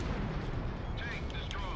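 Sustained heavy gunfire and explosive rumble from the Ace Combat Zero video game as a tank is destroyed, dense and loud throughout, with brief rising tones near the end.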